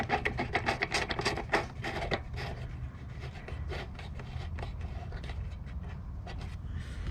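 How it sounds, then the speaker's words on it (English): A Z-bar bolt being screwed in by hand while fitting mud flaps: faint, close scraping and rubbing with a quick run of small clicks at first, then a steady soft rasp. "I'm just screwing this in by hand"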